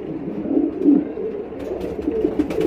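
Pigeons at a pigeon market, a close, soft, continuous cooing and burbling from several birds, with faint rustling near the end.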